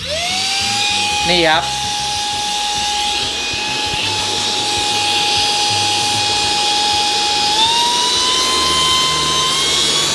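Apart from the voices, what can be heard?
Jowsua Power Max cordless vacuum cleaner running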